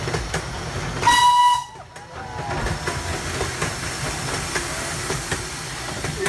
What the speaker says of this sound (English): the 15 inch gauge railway comes alongside us and we give it a run